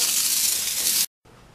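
A loud, steady hiss of a paint spray gun applying paint to motorcycle parts runs for about a second, cuts off abruptly, then resumes more quietly.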